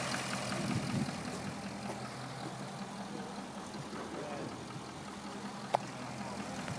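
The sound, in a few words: 2012 Chrysler 300 SRT8 6.4 liter Hemi V8 engine idling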